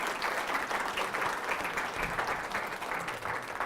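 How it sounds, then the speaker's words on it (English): Moderate audience applause at an info session for a leadership academy, steady overlapping claps from a smallish crowd, somewhat distant and even in level. "So if we can give her a round of applause"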